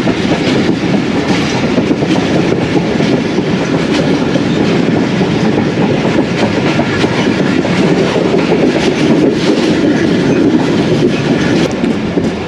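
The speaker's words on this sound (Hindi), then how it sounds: "दोस्तों अभी हमारी ट्रेन भोए आसल अबेडेंट रेलवे स्टेशन से गुजर रही है" Allama Iqbal Express train rolling through a railway station, a loud continuous rumble with rhythmic clickety-clack of wheels over rail joints heard from on board, no speech.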